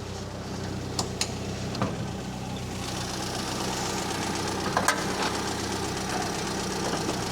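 A classic Mini's engine idles steadily while warming up after new throttle shaft and bushes were fitted, a continuous close hum with a few faint clicks and knocks over it and no voices.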